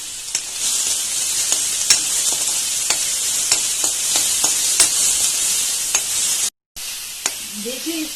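Garlic sizzles steadily in a pan of hot oil for Schezwan chutney, a close, continuous frying hiss broken by sharp stirring clicks, cutting out briefly near the end.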